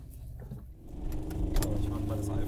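Small moped car engine running with a buzzy, lawnmower-like drone, close and steady, rising in level after the first second, with a brief rattle like keys.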